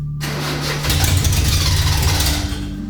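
An Alfa Romeo Giulia GT Junior engine starts after a short silence, then settles into a steady, loud, rough idle close by with no voices.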